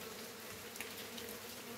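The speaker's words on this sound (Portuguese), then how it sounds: "abelha sem ferrão, tá, galerinha? Abelha Uruçu Amarela." Stingless Uruçu Amarela bees hum softly at the entrance of their hive, a faint, continuous low buzzing with no voices over it.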